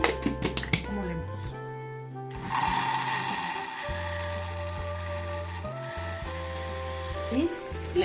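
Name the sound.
blender grinding onion, garlic and water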